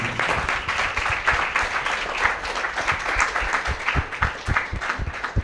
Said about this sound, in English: can we have a massive round of applause for each and every one of you?